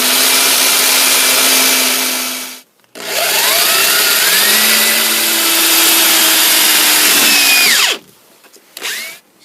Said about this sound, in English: when I drill the holes